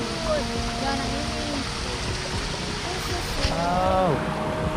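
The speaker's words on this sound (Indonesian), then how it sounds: "ternyata ada air terjun guys" Waterfall on a hillside outing near Puncak, Bogor, a constant rushing roar of falling water with voices talking over it throughout.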